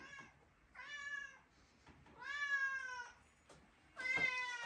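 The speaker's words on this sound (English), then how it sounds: "The cat wants to be in the video." A house cat meows three times close by, each cry a drawn-out tonal call with short quiet gaps between, the last one higher and sharper.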